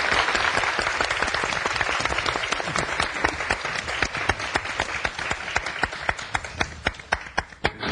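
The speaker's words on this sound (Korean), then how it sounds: "계속해서 김도윤 씨의 강연 더 큰 박수로 청해 듣겠습니다" Audience applause after a talk ends at a Korean lecture show, dense steady clapping from a full room, close and loud, with individual claps standing out more sharply as it thins toward the end.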